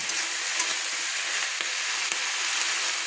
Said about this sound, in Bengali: আমি আলু পেঁয়াজ কলিগুলো ভেজে নিচ্ছি তেলের সঙ্গে